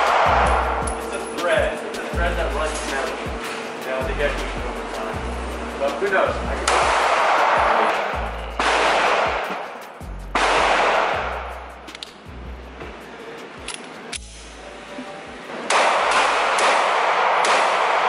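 Gunshots ring out at a shooting range, a series of loud sharp reports with echoing tails, some in quick succession and others spaced apart, with people talking between shots.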